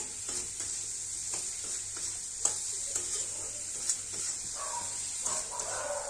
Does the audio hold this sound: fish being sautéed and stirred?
yes